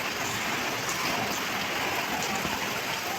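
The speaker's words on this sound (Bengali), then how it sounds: "আর বাইরে তো বৃষ্টি হচ্ছে হাওয়া হচ্ছে" Steady rain falls outdoors on a windy day, a soft, continuous hiss of drops heard from indoors without any voices.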